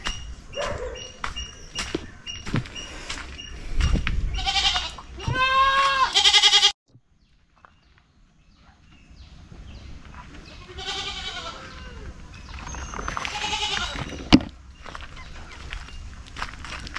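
Goats bleat repeatedly in a rural goat pen, several near, loud cries spread across the clip with footsteps and farmyard movement between them and a short quiet gap in the middle.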